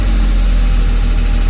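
A Mercedes R107 280SL engine idles steadily at high revs after fuel distributor repair, a loud, even low drone with constant vibration and no break.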